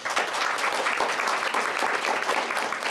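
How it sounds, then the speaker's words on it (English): An audience claps steadily, a dense patter of applause that holds at the same level from start to finish. "And one more applause for our panelists."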